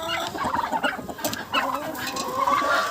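Several chickens cluck and murmur close by in a busy, overlapping flock, short rhythmic calls without pause and no talking.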